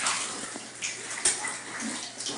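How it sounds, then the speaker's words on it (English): Cold water gushes into a bathtub for rinsing hand-washed laundry, a steady splashing rush with small sloshes and no voices. "So I filled up with cold water to rinse."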